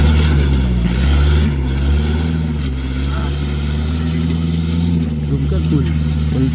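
A four-wheeler pulls straight out in one go with a loud, close engine drone that rises and falls, and people talk over it.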